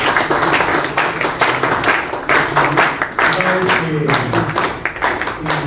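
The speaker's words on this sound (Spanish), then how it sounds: "Fuertes palmas, por favor" An audience claps through a business talk on urgent measures for small enterprises, a dense burst of handclaps that comes in waves and keeps going. Voices are heard over the clapping.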